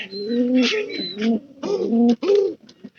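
A paired pigeon, unfamiliar with its surroundings, coos while pecking at rice: a close, clear run of throaty rolling coos in several phrases separated by short pauses.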